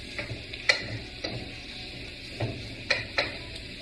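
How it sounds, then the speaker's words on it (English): Ground meat is broken up with a utensil in a pan of frying onions, giving a soft low sizzle punctuated by several sharp scraping clicks and taps at irregular intervals. "Break that meat up into the onions"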